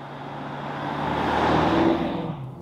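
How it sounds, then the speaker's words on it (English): An Audi SQ8 V8 SUV cruising on a city street, its steady engine and tyre roar swelling gradually and then easing off, heard close and fairly loud without any talking. "And now to some street driving of the SQ8."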